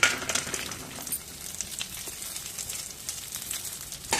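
Cashews frying in melted ghee in a pan, a steady soft sizzle with scattered crackles and pops, close and fairly quiet, with no talking.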